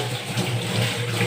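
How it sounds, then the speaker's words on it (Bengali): A plate being rinsed under a running kitchen tap, a steady close splashing rush of water with no talking. "এবার প্লেটটা ধুয়ে নি।"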